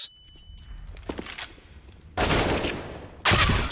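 Video game gunfire from Counter-Strike: Global Offensive during a pro esports match, with scattered faint shots giving way to two loud, dense bursts of rapid fire that dominate the second half.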